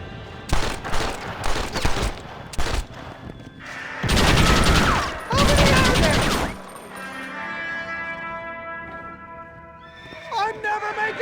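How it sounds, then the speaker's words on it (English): Western gunfight in Red Dead Redemption, with sharp volleys of rapid shots in bursts alongside horse whinnies and hoof clip-clop, plus shouted voices over the action. "John, start shooting!"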